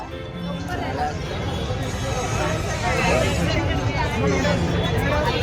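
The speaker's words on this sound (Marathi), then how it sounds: "आज रविवार असल्याने रविवार असल्यामुळे खूप गर्दी आहे" Dense crowd hubbub at the Konkan Mahotsav 2024 festival fair in Dombivli on a busy Sunday, a steady loud wash of many overlapping voices with faint traffic-like rumble underneath, continuous throughout.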